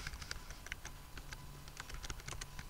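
Typing on a computer keyboard while removing spyware on a Windows PC, with rapid, uneven, close key clicks forming a continuous patter and no talking.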